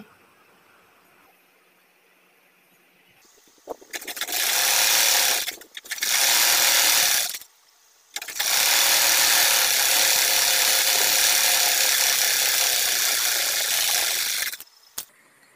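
A sewing machine stitching fabric pieces of a child's pant together, running in three loud, steady whirring bursts separated by short pauses, close up.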